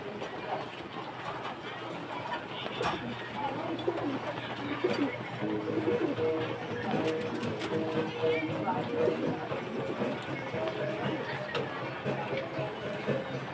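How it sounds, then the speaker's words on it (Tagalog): Pigeons coo softly and repeatedly amid a busy, noisy background with a low steady hum and occasional clatter. "Kalapati natin sa baba."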